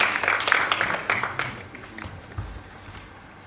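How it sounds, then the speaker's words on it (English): Audience applause for a Kathak dancer at a ghazal evening, a moderate crowd clapping with crisp individual claps that thin out and soften over a few seconds, heard at some distance in a hall. "Let's have another round of applause for Andrea."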